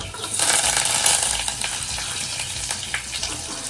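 Garlic and curry leaves sizzling in hot oil in a home kitchen while fish curry is prepared, a steady close crackling hiss with small pops and spatters, no talking.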